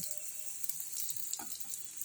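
Beguni, eggplant fritters in a cornflour batter, fry in hot oil with a soft, steady crackle and hiss, faint and close, with an occasional small pop and no voices.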